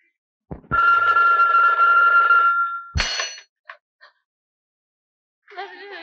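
A telephone rings as a call is placed in an old Turkish Yeşilçam film: a click, then a sustained bright ring of about two seconds, a brief second burst and a faint warbling tone at the end.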